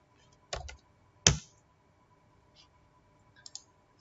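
Computer keyboard typing during work in protein NMR assignment software: a few sharp, close clicks in small bursts separated by quiet pauses, with faint taps near the end.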